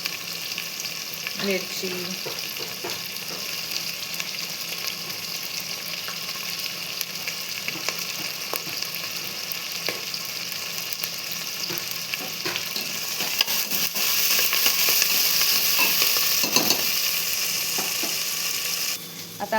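Tomatoes, ginger, garlic, coriander and chili fry in a pan in a home kitchen, a steady close sizzle running throughout with occasional stirring clatter, growing slightly louder toward the end.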